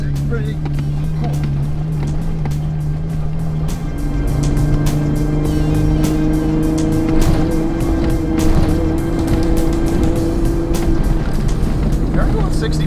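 An off-road 4x4 runs fast at about 65 on a rough Baja California dirt road, its tires aired down to 18 psi. A steady loud engine and road rumble carries throughout, with bumps and rattles, under people talking.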